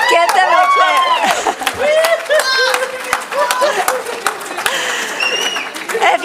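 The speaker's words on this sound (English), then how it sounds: "Give them a clap." Mourners applaud at a funeral service, a scattered round of clapping with voices speaking and calling over it.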